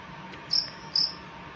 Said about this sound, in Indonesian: Jawabannya adalah jangkrik. Jangkrik bahasa Inggrisnya adalah cricket.